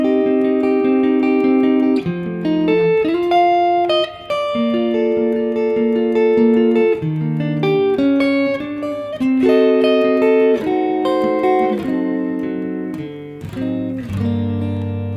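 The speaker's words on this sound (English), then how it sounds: "We're going one octave higher and playing the same melody" A melody played on guitar an octave up, single sustained notes stepping through the tune with steady phrasing, close and clear with no talking.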